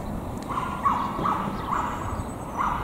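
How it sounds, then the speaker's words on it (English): A dog barks repeatedly in the distance near an outdoor skatepark, each bark answered by its own echo, giving a steady pattern of faint, hollow yelps over low background noise. "You can hear the dog over there barking"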